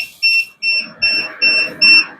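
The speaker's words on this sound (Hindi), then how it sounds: "इसके बाद ये जो अलार्म है ये खुद ब खुद बंद हो जाएगा" A household gas and carbon monoxide detector, Gedsffati model, sounds its alarm indoors: loud, close, regular high beeps in a steady on-off pattern, five or six pulses with short gaps, no voices.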